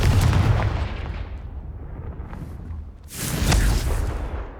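A Confringo blasting spell explodes in Hogwarts Legacy as two heavy, booming bursts, one at the start and another about three seconds later, each with a rumbling decay.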